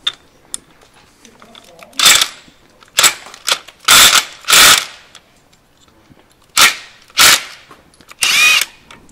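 A ratchet with a 19 mm socket works loose a bolt on a Yamaha 100 RT engine in a series of loud, close bursts of rapid clicking, separated by short pauses.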